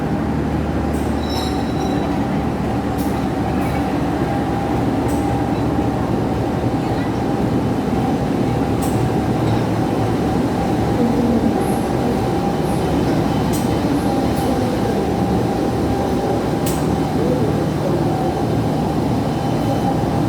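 A KA Bengawan passenger train hauled by a CC201 diesel locomotive rumbles steadily for a long stretch, loud and close, with a persistent engine drone, occasional metallic clicks and squeals, and voices in the background.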